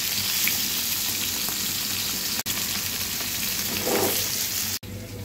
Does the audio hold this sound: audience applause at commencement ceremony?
no